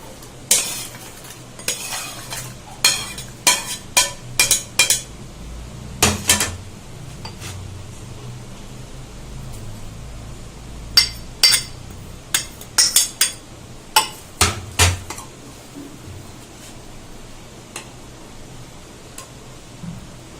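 Washed rice and lentils go into a pressure cooker for khichuri, heard as a run of quick metallic clinks and scrapes from a spoon against the pot over a faint, steady background.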